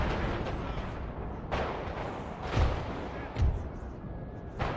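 Cannon and artillery fire in the Napoleon Total War strategy game, with several deep booms and thuds going off at irregular intervals under a voice speaking Russian.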